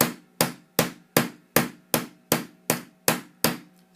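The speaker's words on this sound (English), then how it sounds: "You carry on hammering until you get the density of texturing that you're looking for" A hammer strikes metal to create texture, ten sharp evenly spaced blows with ringing decay, close and clear with no voices.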